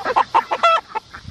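Chickens, both roosters and hens, cluck up close in a quick, choppy series of loud bursts with one longer, strained squawk in the middle.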